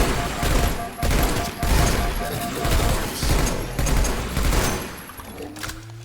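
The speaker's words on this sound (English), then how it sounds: "Is that the cryo gun from Doom Eternal?" Rapid bursts from a cryo gun modelled on Doom Eternal, fired in a Halo game, loud noisy volleys pulsing about once per second and trailing off near the end with a rising mechanical whine.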